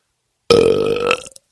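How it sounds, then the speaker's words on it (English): A single loud, wet belch rumbles for under a second, with a couple of small gurgling after-sounds trailing off into silence. "They get to taste the Undercountry Music News Wet Belch of the Week"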